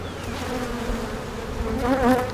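Honeybees buzz on top of an open hive, a dense close drone that swells slightly toward the end with no voices.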